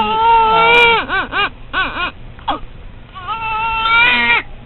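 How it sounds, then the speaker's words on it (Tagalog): A baby cries loudly and close by in rising and falling wails, broken by short hiccuping sobs and a brief pause before the crying resumes. "Iyak-iyakin mo, hindi naman umiiyak araw-araw."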